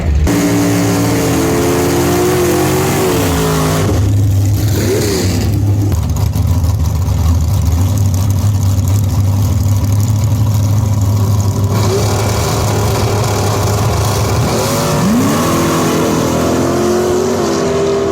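1966 Plymouth Belvedere drag car at the track, launching and bogging: a loud engine roars, then stumbles and drops before a long, rough, labored pull, closing with further revving, with no talking over it.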